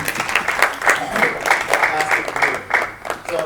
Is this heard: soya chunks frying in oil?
no